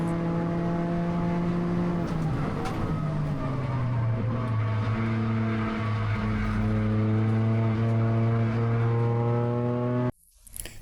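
A Toyota GR Cup race car corners hard, its engine droning loud and steady as the pitch falls and then climbs again, with a tyre squeal mixed in before the sound cuts off abruptly near the end.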